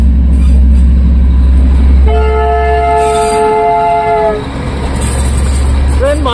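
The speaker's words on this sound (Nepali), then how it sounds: "अवस्था दार्जिलिङको ट्रेन पनि आइपुगे" The Darjeeling train rumbles in loud and close, its horn sounding a sustained toot partway through, with voices over the heavy rolling noise.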